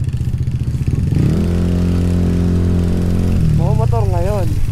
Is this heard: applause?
no